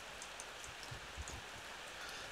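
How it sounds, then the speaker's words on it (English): Rain falls outside in the Ao Oni video game as a faint, steady hiss with scattered drop patter, heard alone without talk. "it must be raining outside"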